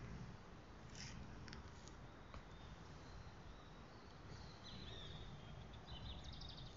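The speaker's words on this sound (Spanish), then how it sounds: "¿Sí oyen los pajaritos? Trinando, cantando en portugués." Birds chirp and sing outdoors in Porto Alegre, Brazil, with faint, thin calls appearing in short bursts over steady background noise.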